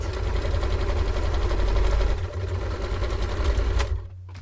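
A sewing machine runs a steady, fast buzzing stitch through fabric pieces, joining sewing-pattern parts. It pauses briefly partway through, picks up again, then stops near the end, and no one speaks.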